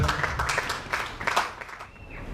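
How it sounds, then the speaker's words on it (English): An audience at a World Hearing Day event applauds a guest, a brief burst of scattered hand clapping in a room that swells and then fades out within a couple of seconds. "let's give a big hand of applause to Dr. Sarah Ayesiga"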